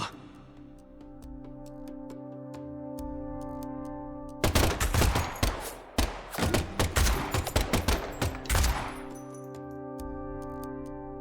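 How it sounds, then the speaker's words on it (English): Rapid bursts of video game gunfire break out loudly in the middle, sharp cracking shots in quick irregular volleys over a steady musical drone, with quieter plinks and tones before and after. "And the last gunshot we heard sounded ominous, Zack."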